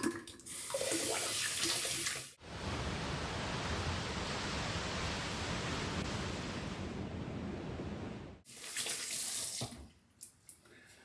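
Water runs steadily from a tap for a rinse after shaving, a broad, even hiss lasting several seconds between quieter splashes and handling noises before and after.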